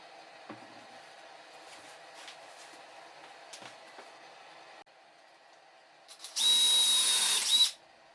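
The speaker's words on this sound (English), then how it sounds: "I pre-drill and screw 5 1-inch screws into the face" Quiet shuffling and tapping, then a short, loud burst of a power drill whirring near the end, pre-drilling and driving screws into a cabinet drawer face, before cutting off.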